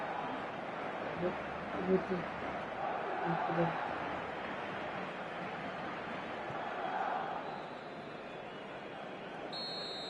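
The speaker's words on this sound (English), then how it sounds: "the crowd level has gone up a notch or 10" Football stadium crowd at a Barcelona versus Real Madrid match, a loud sustained roar with surges and swells, with a commentator talking over it throughout.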